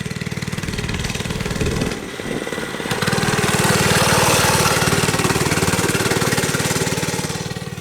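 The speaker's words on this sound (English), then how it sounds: "Literally this scooter thing." A small, barely modified scooter engine runs close by on a friend's property with a loud, rapid, buzzy putter. It dips briefly and then holds steady, with no one speaking over it.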